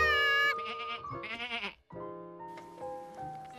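Cartoon sheep bleat in a long wavering call and then a second one, followed after a short gap by bright animated musical tones, all in a pasture scene with no talking.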